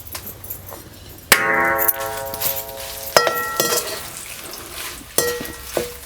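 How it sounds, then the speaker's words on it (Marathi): Bay leaves fry in a spoonful of oil for homemade black masala: a soft, steady sizzle runs under sharp metallic clinks and rings as a utensil strikes the pan, with three distinct clanks spread across the stretch. "आपण हे तमालपत्रसुद्धा परतून घेऊया"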